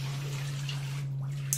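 Water pours steadily from a shower head fed by a Costway portable instant water heater set wide open, a continuous close hiss with a low electrical hum underneath.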